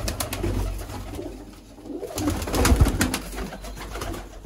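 Sialkoti pigeons cooing softly in low, repeated throaty calls, with some wing flutters and shuffling close by.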